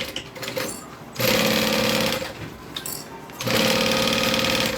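A sewing machine stitches in two steady bursts, a close, rapid mechanical whirr with a pause between runs as the needle goes back over a seam line.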